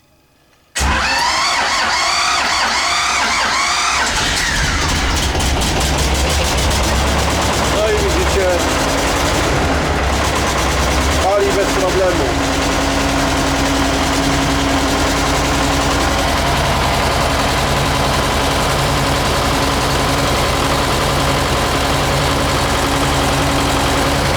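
An engine cranks with rapid rhythmic chugging, catches, and settles into a steady loud idle that runs on without pause.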